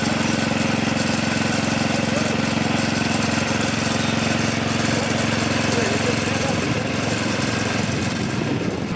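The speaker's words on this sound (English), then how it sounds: "for now we're going to let it run and let it pick up all the sediment and run it through the engine" A Bolens tractor engine runs continuously at a steady idle nearby, an even mid-pitched mechanical drone with a fast, regular firing pulse and no other sounds over it.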